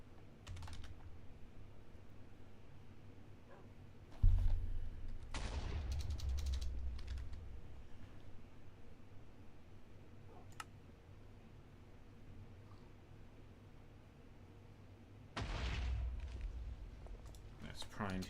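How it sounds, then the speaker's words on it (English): Several TNT explosions in modded Minecraft (Create and Mekanism, sky edition) go off as heavy, rumbling bursts, two of them prominent, over steady computer keyboard typing that continues throughout. "the sounds of effing TNT explosions in the"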